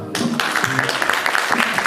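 Applause at a 2019 barista championship team award ceremony, a steady wash of clapping that starts abruptly after a brief quiet moment and continues under a host's talking.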